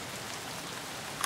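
Rain falls in the video game Escape From Tarkov as a steady, dense hiss of drops lasting just over a second, with a small click near the end and no voices.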